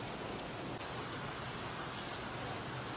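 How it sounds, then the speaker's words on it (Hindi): Heavy rain pours steadily onto a roof, a dense, continuous hiss of drops that stays even and fairly soft throughout with no voices. "दिख तो पता नहीं आपको रही होगी, बस आवाज़ आ रही होगी छत में ना।"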